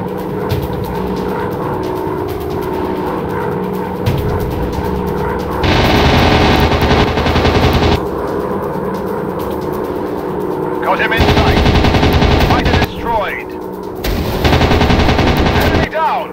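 Rapid machine gun bursts in a WW2 air combat PC game, loud stuttering fire in several long stretches over a droning aircraft engine hum, with radio voices in between.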